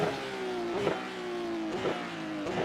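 A Porsche 992 Cup race car in iRacing at Motorland Aragon revs hard through the gears, the engine note climbing steadily with quick upshifts roughly every second, loud and close, no talk.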